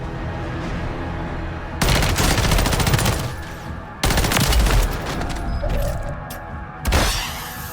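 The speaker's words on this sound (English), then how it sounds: "I hear all the shooting" Call of Duty gunfire in dense automatic bursts, loud and close, with a long sustained volley, a brief pause, then another heavy stretch of rapid shots and a final sharp burst.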